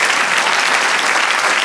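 Congregation applauding at a Spanish-language church service, a dense, steady wash of many hands clapping together, loud and even throughout with no speech over it.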